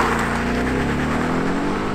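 A Ford Mustang on air ride suspension pulls away under a steady, close engine drone whose pitch climbs slightly as it accelerates, with no talking.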